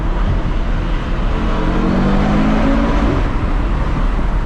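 Audi RS3 five-cylinder engine inside a tunnel, a loud continuous low drone with a rising tonal sweep as revs climb, reverberant and close, with no talk over it.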